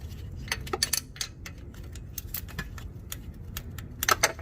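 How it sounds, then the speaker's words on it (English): Rapid metallic ratchet clicking while loosening the starter bolts on a Mazda RX8, bursts of sharp ticks over a low engine-bay rumble, close up with no talk. "Once you break them loose, you can use a ratchet."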